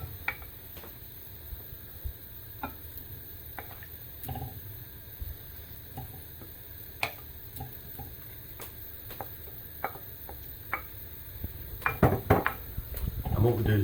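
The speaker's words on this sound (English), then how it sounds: "We'll just mix this together. And then we'll add our lamb." Utensils clink and scrape against a tagine pot while ingredients are stirred together and mutton is added, a steady run of light clatter ending in a louder burst of knocks, with faint voice in the background.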